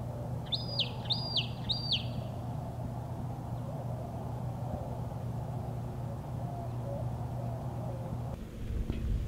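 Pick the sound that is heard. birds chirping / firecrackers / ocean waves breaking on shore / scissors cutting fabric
birds chirping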